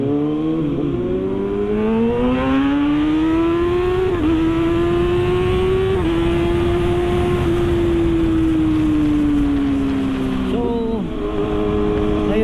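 A Kawasaki ZX6R sports motorcycle engine revving continuously while riding through traffic, the pitch climbing through gear changes and then holding at a high, steady whine. The engine is loud and close, with wind noise underneath.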